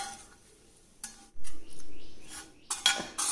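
Roasted spice powder stirred in a pan, with a few scattered scrapes and clinks of a utensil against the metal and short quiet gaps between strokes.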